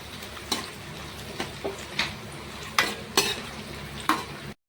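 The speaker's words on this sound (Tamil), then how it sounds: "இப்படி பொன்னிறமாக நம்ம காஞ்சி மிளகா வறுத்துறோம்" Dried red chillies fry in hot oil in a pan over a low flame, a steady sizzle broken by several sharp stirring scrapes spaced through the clip, close and clear with no talking.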